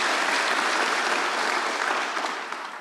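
Dense applause from a church congregation during a worship service, even and sustained before tapering off slightly at the end.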